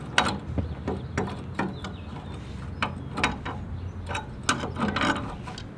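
Pin being worked out of a 1999 Harley-Davidson Dyna kickstand mechanism, giving a run of small metallic clicks and ratcheting taps, close and fairly quiet, with no talking.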